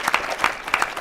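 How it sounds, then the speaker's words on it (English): An audience at a public history program breaks into applause, a short burst of close clapping lasting about a second. "Why don't we give Donnie Betts a wonderful round of applause for his vision."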